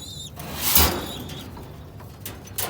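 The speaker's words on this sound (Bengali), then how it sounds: "অনেক সুন্দর এক পেয়ার কবুতর।" A pigeon gives a brief, soft call amid faint bird sounds and quiet background rustle, heard close and alone.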